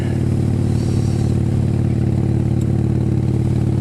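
A pink Vespa scooter engine runs at a steady idle, giving a constant, close, low putter with a faint clattering texture throughout.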